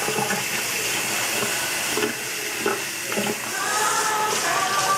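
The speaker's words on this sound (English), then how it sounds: "Always make sure you wash off the tops of your cans" Running water from a kitchen tap splashes steadily while cans and peas are rinsed, a continuous close hiss with a few brief knocks and clatters over the top.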